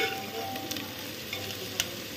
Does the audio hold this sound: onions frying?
yes